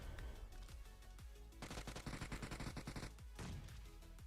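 Rapid automatic gunfire and explosive grenade bursts from a battle royale video game match, dense and continuous with a heavy sustained volley in the middle, no talking heard.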